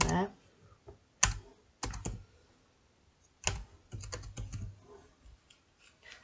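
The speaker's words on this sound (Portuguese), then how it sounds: "Aí vou selecionando, apagando e vou digitando ali o que eu quero" Close, quiet typing on a computer keyboard, with irregular clusters of crisp key clicks separated by short pauses.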